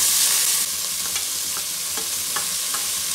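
Almonds and mint frying with garam paste in a pan for palav, a steady loud sizzle throughout with a few light clicks of a spoon stirring, no voices.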